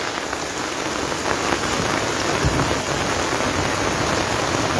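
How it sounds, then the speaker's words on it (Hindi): Torrential monsoon rain pours steadily in Jammu, a dense, constant hiss of heavy rainfall drumming on surfaces, close and loud throughout with no voices. "और हो रही मूसलाधार बारिश के चलते आप देख सकते हैं"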